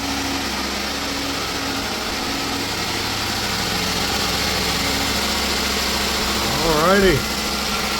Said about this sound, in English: Only thing left to do is start up the Jeep and see if it's squirting fuel out everywhere.